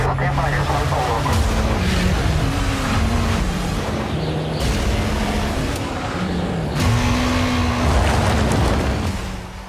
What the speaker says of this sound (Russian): Компания Ford в Австралии провела внедорожные испытания нового поколения пикапа Ford Ranger Raptor